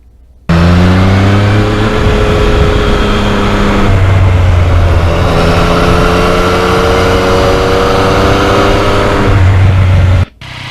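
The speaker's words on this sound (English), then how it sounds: "I never get tired of that MT-09 quick shifter." A Yamaha MT-09 naked motorcycle engine revs steadily and loudly, with quick shifter gear changes breaking the drone into stepped pitch jumps around two, four and nine seconds before it cuts off near the end. No one speaks.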